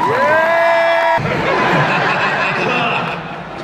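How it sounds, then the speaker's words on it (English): Audience at a fan fest panel erupts in a loud, sustained round of applause and cheering, with a dense crowd wash and whoops carrying on for several seconds after a brief opening tone. "Can we have a round of applause for this guy, please?"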